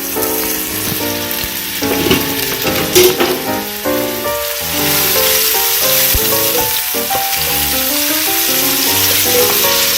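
Onions frying in hot oil for jollof rice, a loud continuous sizzle with a brief stir partway through, close up and steady to the end.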